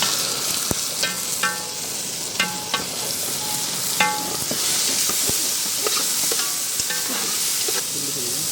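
Onions and ground spice paste frying in a pan for a crab omelette, a close, continuous sizzle broken by several sharp clinks and scrapes of a spoon stirring against the metal, with no one speaking.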